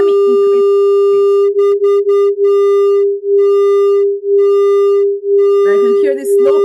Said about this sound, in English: I can hear this slow beating.